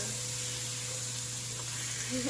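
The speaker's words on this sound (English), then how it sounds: "And you want to see it sizzling." Steady, gentle sizzling hiss of meat frying in a hot pan, continuous and close, with a faint background hum.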